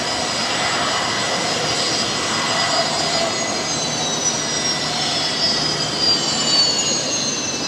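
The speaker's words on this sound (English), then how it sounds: "Listen to that Fokker making an absolute racket." Fokker aircraft at Brisbane Airport at night, its engines giving a loud, continuous roaring whine with rising tonal pitch, steady and fairly close throughout, with no voices over it.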